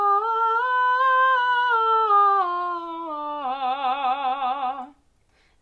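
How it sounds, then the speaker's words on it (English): A mezzo-soprano voice sings a smooth stepwise scale spanning C4 to C5, alone and close, moving between the two notes. It settles into a wavering vibrato on the final note before stopping. "if I were to sing from C4 all the way up to C5 in a scale,"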